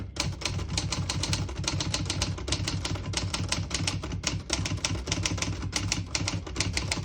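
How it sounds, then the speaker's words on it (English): Rapid, even clacking of keys on a 1962 Olivetti Model 21 portable typewriter struck one after another, close and loud, with a mechanical thump under each stroke and no pauses. "I'll type a sentence on the next line."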